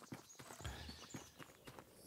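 A nobleman's horse clip-clopping in the video game Tavern Manager Simulator, faint, quiet hoof clops in a slow, uneven walking rhythm against a soft ambient background.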